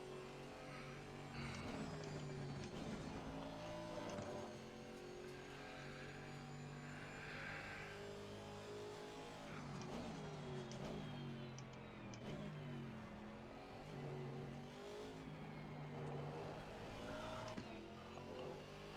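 Aston Martin GT4 race car lapping Suzuka in a racing game, its engine droning steadily and loudly throughout with rising and falling revs through gear changes, no voices.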